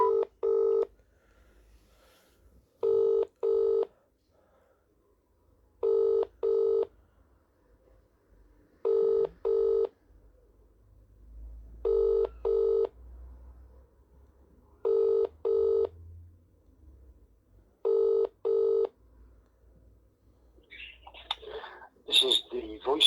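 A phone line rings repeatedly in evenly spaced double tones, about seven rings, followed by a faint recorded voicemail greeting at the end.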